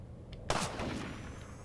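A single sharp sniper gunshot in a video game bursts out after a short quiet, followed by a lingering rumbling echo that fades slowly.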